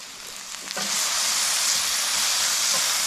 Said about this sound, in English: while we sear up our little yabby toppers